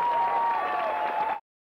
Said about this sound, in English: let's round of applause for Matt from